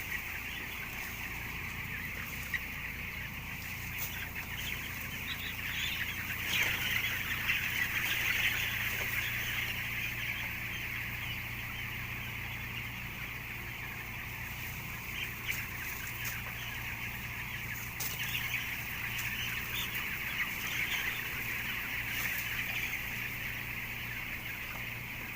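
A flock of 13-day-old chicks peeps and clucks continuously for the whole stretch, a dense, steady chorus of high chirps at moderate volume with no speech.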